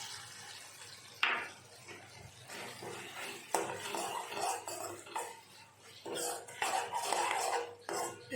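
A utensil scrapes and clanks against a pan in uneven strokes as tomato sauce and soy sauce are stirred, with faint background noise.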